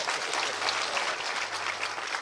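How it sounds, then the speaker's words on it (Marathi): Steady, dense audience applause at a Marathi kirtan gathering, loud and continuous throughout with no pauses or voices standing out. "टाळ्या द्या"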